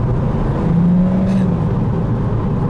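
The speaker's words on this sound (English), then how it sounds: "we're not spinning tire in the Mini Cooper. We're just spinning clutch" A JCW Mini Cooper engine revs steadily with a slipping clutch, a loud continuous droning whir heard from inside the car with a slight rising pitch in the middle.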